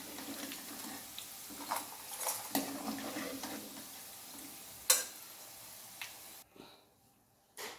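Onion pakodas deep-fry in hot oil as a faint bubbling sizzle, punctuated by sharp metal clinks and scrapes of a slotted spoon against the pan, before the sound drops away near the end.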